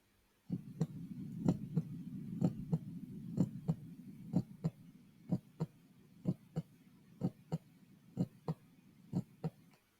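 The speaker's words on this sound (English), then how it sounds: "I can hear my heart pounding." A heartbeat thumps steadily and close, paired beats repeating at a regular pace over a low droning background.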